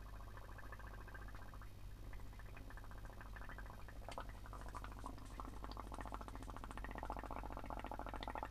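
Air bubbles churning through a dye bath, a continuous low bubbling and fizzing with scattered pops and drips, steady and fairly quiet throughout.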